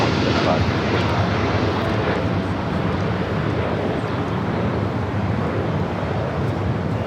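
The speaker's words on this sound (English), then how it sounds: "This is DHL, operated by Polar Air Cargo 789, taking off to Seoul on a 747-8 freighter." A DHL Boeing 747-8 freighter, operated by Polar Air Cargo, takes off from LAX, its jet engines a loud, steady broadband roar that fills the whole clip, with faint voices underneath.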